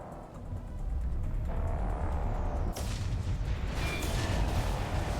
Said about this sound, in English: Aesthetic explosions that don't actually damage me.